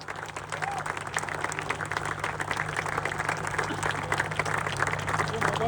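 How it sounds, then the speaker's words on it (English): A large crowd applauds steadily at an event honouring cricketer Rohit Sharma, dense clapping sustained throughout at close range while an announcer's voice speaks over it. "keep the claps going."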